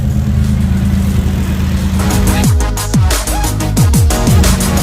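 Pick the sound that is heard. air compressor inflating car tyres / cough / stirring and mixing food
air compressor inflating car tyres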